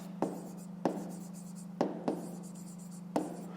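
A pen writing on paper during a 5th-grade maths exercise: a handful of short scratchy strokes and taps spaced irregularly over a steady low electrical hum, close and fairly quiet, with no talk.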